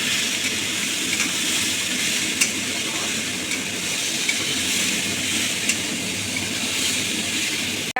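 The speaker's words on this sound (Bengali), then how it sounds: "দিয়ে ভালো করে ভেজে নিতে হবে ডালগুলো ভালো করে ভেজে নিতে হবে" Washed lentils (dal) frying in a pan for a Bengali dal chorchori, a steady close sizzle with occasional scrapes and clicks from stirring, continuous for the whole stretch with no talk.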